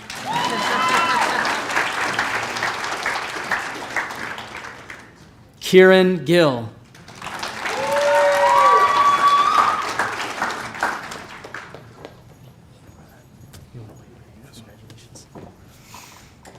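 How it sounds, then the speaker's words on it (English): Audience applause at an employee recognition awards ceremony, a broad steady wash of clapping that rises twice, broken by a brief spoken name, then fades into scattered claps under a speaker reading further names. "You can applaud, it's worth it."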